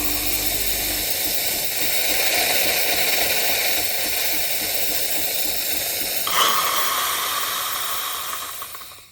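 A TUNI E2 espresso machine steams milk in Super Steam mode, giving a loud, steady, close hiss with the pump's hum running underneath; the sound shifts tone partway through and tapers off at the end.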